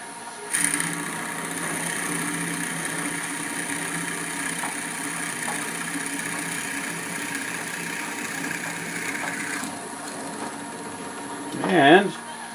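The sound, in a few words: lathe drilling a hole in a wooden miniature bird house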